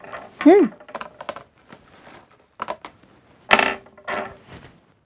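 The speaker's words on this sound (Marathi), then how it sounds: "हे आपण घेऊया फासे" Small dice are picked up and handled on a surface during a counting lesson, giving scattered light clicks and rattles in short bursts, close by, with a brief voiced sound near the start.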